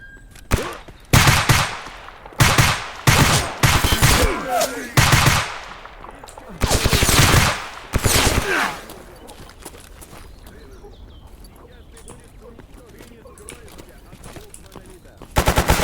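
Bursts of automatic gunfire from a newly acquired weapon in the shooter game Escape From Pripyat, several loud rapid volleys over about eight seconds, then quieter ambient game sounds and footsteps, with one more burst at the end.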